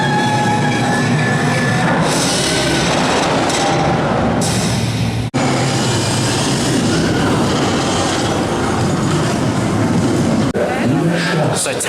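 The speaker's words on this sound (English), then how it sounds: "Taron was an absolutely world-class night ride" Taron launched roller coaster at Phantasialand, ridden at night: a loud, steady roar of wheels and rushing wind throughout, with a sharp jolt midway and riders' voices mixed into the noise.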